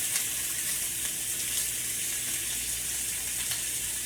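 Beef short ribs browning in hot oil in a pan give off a steady, close sizzle and crackle, constant throughout with no talking.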